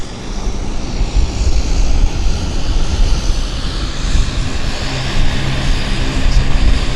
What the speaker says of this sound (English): WestJet 37 taxiing out.